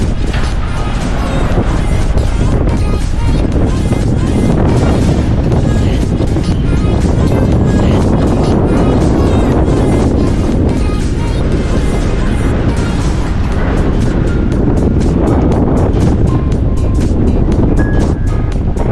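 Loud, continuous wind buffets amid crashing, churning waves on a rough sea crossing toward Caticlan, Philippines, a harsh roaring wash with repeated thumps of water against the hull.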